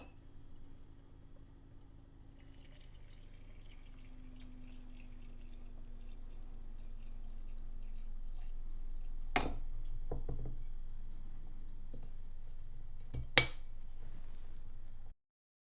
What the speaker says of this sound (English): I'm going to pour it over the dried mushrooms and then add a lid and give it a shake